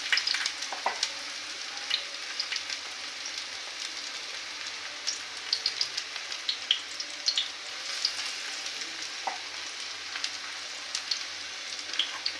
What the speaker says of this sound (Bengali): এটা আমি কিন্তু অল্প তেলে ভেজে নিচ্ছি।